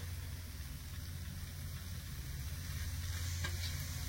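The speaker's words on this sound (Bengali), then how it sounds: "এখানে খুব সুন্দরভাবে গুড়টা গলে গেছে আর নারকেলটাও ভাজা ভাজা হয়ে গেছে" Grated coconut and jaggery filling for pitha fries in a pan, giving a soft, steady sizzle with faint stirring throughout, low in level with no speech.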